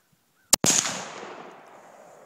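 A single sharp rifle shot from a Finnish M27 Mosin Nagant, with a close, loud crack followed by a long rolling echo that fades over about two seconds outdoors.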